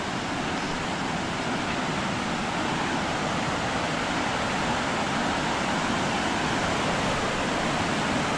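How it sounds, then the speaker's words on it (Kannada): Hebbe Falls near Kemmangundi in Chikkamagaluru pours down with great force, producing a dense, unbroken roar of falling water that stays loud and steady throughout. "ನೋಡ್ಗುರು ಯಾವ ರೇಂಜಲ್ಲಿ ಫೋರ್ಸಲ್ಲಿ ಹರ್ಕೊಂಡು ಹೋಯ್ತಾ ಬಿದ್ದೈತಿ ಇಲ್ಲಿಂದ ನೀರು."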